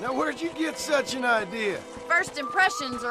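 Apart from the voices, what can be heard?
No everyday noises stand out.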